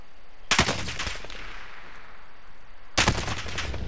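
Two bursts of automatic gunfire in the Call of Duty: Warzone battle royale, one early and one near the end, loud and sharp over a steady background of game ambience.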